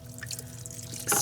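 Water is poured over spices in a Ninja Foodi pot, a soft close splashing and dribbling trickle that ends in a brighter splash at the end, with no talking.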